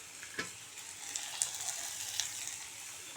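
Potato pieces and yardlong beans frying in a pan on a high gas flame while being stirred, a quiet steady sizzle with a few light clicks of the spatula, close and with no talk.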